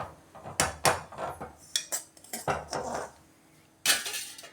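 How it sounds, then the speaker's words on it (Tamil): Semolina roasts in ghee in a pan for rava kesari as a spatula scrapes and clinks against the metal in close, uneven bursts, with a short pause before a final stroke. "இப்போ நாங்கள் ஒரு டம்ளர் ரவையை தான் என்ன பண்ணுறோன்னா நெய்யில் வறுத்துக்கிறோம்."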